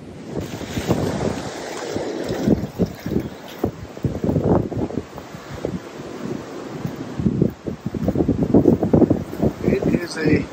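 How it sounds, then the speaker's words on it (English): Strong wind gusts roar and buffet the microphone on a frosty mountain on the Appalachian Trail in the morning, while a person talks over the rushing noise. "It is a cold, windy morning. As you can see, a lot of frost up here, and the wind is quite strong."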